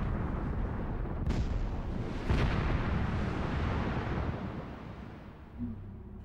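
An explosives blast in an open-pit copper mine, with holes 55 feet deep each packed with about 1,000 pounds of explosives, booms with sharp cracks followed by a long, heavy rumbling roll of loosened rock that slowly fades.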